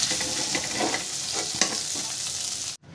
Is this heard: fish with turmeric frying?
yes